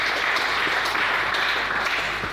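A church congregation applauds, a steady, full wash of many hands clapping together that holds at an even loudness for the whole stretch without pause.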